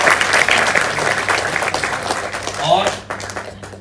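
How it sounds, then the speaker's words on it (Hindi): Loud applause fills a seminar hall, a thick burst of audience clapping that gradually thins and fades out, leaving a voice speaking at the end. "एक बार जोरदार तालियां में चाहता हूं आप सबको।"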